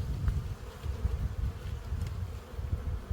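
Honey bees buzz around an open hive in spring, a close, dense low hum with fluttering pulses of individual wings, continuous and without talk.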